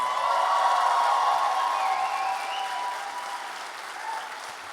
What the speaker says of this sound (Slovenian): predlagam, da si še enkrat res močno zaploskate